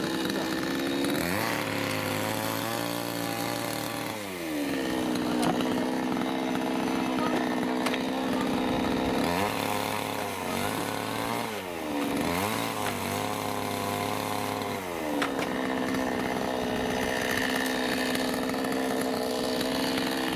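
A chainsaw cuts logs outdoors, its engine droning loud and near throughout and rising and falling in pitch as it bites into the wood and revs again.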